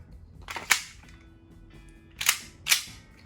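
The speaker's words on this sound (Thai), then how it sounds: "บรรจุแมกกาซีนครับ" A magazine is loaded into a WE Hi-Capa 5.1 T-REX airsoft pistol with a silver slide: a few sharp, close metallic clicks and snaps, separated by short quiet gaps.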